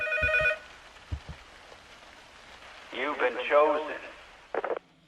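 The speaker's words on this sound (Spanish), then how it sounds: "Suena el teléfono del pasillo" A hallway telephone rings in the Silent Hill video game, a short burst of bright, tonal ringing at the start, followed by a quieter stretch and then a voice speaking.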